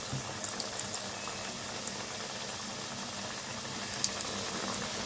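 Chicken strips bubble in deep hot oil, a continuous, even seething hiss with occasional tiny pops, close and fairly quiet.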